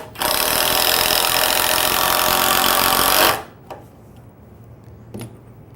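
A 12-volt impact driver sends a screw into hard maple with one loud, continuous rattling hammer of about three seconds that stops abruptly, followed by a couple of faint clicks in a quiet room.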